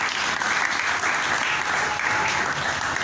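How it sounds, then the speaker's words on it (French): A church congregation claps steadily and loudly for several seconds at a worship service, a dense continuous wash of many hands. "Applaudissons notre Dieu."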